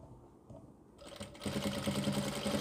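Sewing machine stitching pieces of an Islamic topi cap, starting quietly and then running steadily louder through the second half, close up and alone.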